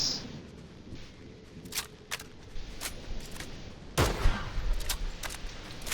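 Scattered gunshots from a Fortnite Zero Build match crack out in uneven bursts, with a louder, closer volley near the end and faint game ambience beneath.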